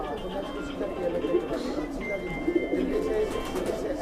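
A pair of red-splashed Madrasi pigeons keep up a low rolling coo, close and continuous, while someone talks over them.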